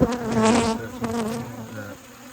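Honey bees buzz in a steady, fairly loud swarm drone during a hive inspection with Apis rescue, a dense hum that swells briefly early on and then eases slightly toward the end.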